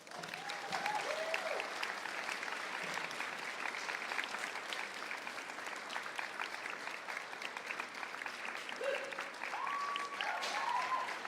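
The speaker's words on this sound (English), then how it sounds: "Let's give them a round of applause" Steady applause from an audience at a campus walk event at Oregon State University, sustained clapping throughout with a few brief whistles or cheers near the end.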